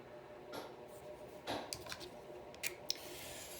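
Scissors snip along the edge of a handmade paper greeting card in a home craft room, a few short crisp cuts close by over a low background hum from a washing machine.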